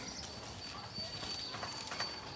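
Cows walking in on a farm, their hooves clopping in an irregular rhythm on hard ground, with voices talking faintly in the background.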